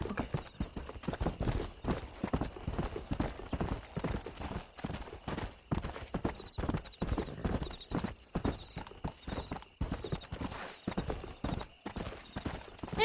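Horse hooves clip-clopping in the video game Red Dead Redemption, a loud continuous run of sharp rhythmic hoofbeats close by, with a faint whinny and occasional speech in the game.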